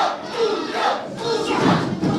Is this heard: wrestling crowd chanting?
yes